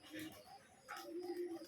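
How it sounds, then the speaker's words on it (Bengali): Pigeons of assorted breeds cooing close by, soft low repeated coos over about two seconds with faint background noise. "কবুতর দেখতে খুবই সুন্দর"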